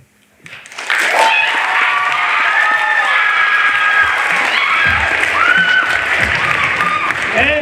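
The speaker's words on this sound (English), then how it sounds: "And applaud the poet." An audience at a ninth-grade school poetry slam bursts into loud, sustained applause and cheering for a poet, with shouts and whoops riding over dense clapping after a brief quiet start.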